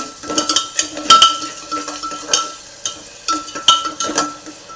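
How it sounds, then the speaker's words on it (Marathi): Tomatoes and salt being sautéed in a pan for moong dal khichdi, with a utensil repeatedly scraping and clinking against the pan over a faint sizzle, close and rhythmic, no talking. "आता यामध्ये आपण टॉमॅटो आणि मीठ चवीनुसार परतून घेऊया"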